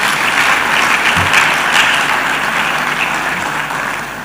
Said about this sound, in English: Please let's give ourselves a big round of applause.